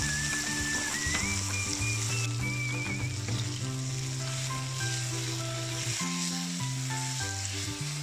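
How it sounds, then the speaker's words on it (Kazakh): Meat frying in hot oil in a pan on a gas stove for a qyrdaq dish, a continuous close sizzle under background music, steady and even throughout, with no talking. "Қызып тұрған отқа етімізді саламыз."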